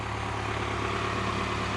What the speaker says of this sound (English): So let's see if the old tractor will lift it and move it.